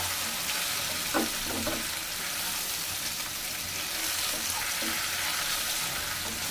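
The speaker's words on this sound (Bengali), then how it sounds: "আবার এটাকে একটু তেলে ভেজে নিই সবগুলো একসাথে।" Fried chicken pieces for chicken Manchurian sizzle steadily in hot oil, a close, continuous crackling hiss with a few brief scraping stirs near the start and no talking.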